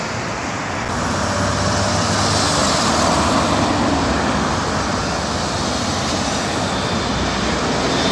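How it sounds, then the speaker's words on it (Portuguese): A steady, broadband engine roar of a LATAM airliner climbing out of Porto Alegre Airport, fairly loud and continuous, blended with distant road rumble, with no voices. "Lá foi ele, o avião da Latam."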